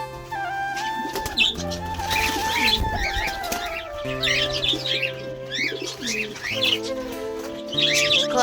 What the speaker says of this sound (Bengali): কবুতরগুলি সকালবেলা খাবার খাচ্ছে